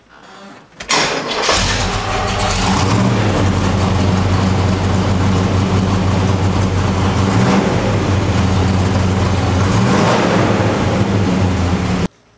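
A car engine fitted with a FAST EZ EFI fuel injection system cranks briefly, catches and settles into a loud, steady, rumbling run for about eleven seconds before cutting off.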